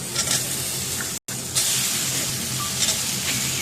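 Tomato goes into hot oil with turmeric and sizzles in a steady hiss, broken by a short silent gap and then a louder burst of frying, with no talk.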